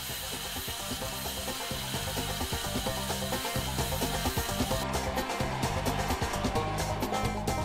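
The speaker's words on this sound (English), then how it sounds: "I'm drilling 2 half-inch diameter holes" A power drill whirs steadily, boring half-inch holes into a wooden decoy keel, with a grinding, uneven bite and sharper clicks near the end; no one speaks.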